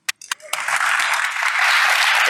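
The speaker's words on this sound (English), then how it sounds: "let's give a round of applause to our speakers" A conference audience claps for the speakers at an Active Directory security talk, starting with a few scattered claps and quickly swelling into steady, full applause that continues to the end.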